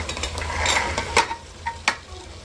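Chopped green chilies, carrot, beans and potato go into a pan of fried masala, giving a close sizzle and a few sharp spatula scrapes and clicks as they are stirred.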